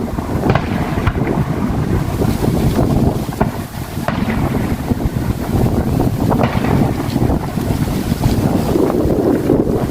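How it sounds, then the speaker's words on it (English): Gusty wind buffeting a microphone outdoors at a Canada Day fireworks show, a loud, continuous low roar and rumble with no pauses. "Sorry for wind."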